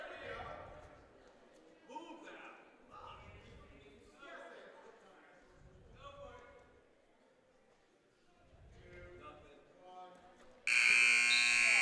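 A loud, steady buzzer blares at the close of a high school wrestling period between Pascack Hills and Indian Hills, cutting in abruptly after spoken commentary over faint gym noise and holding to the end.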